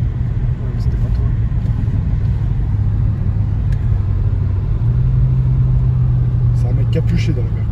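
A deep, loud tuned car engine rumbles steadily nearby at night in Lyon, its low drone shifting pitch slightly, with voices faintly audible over it near the end.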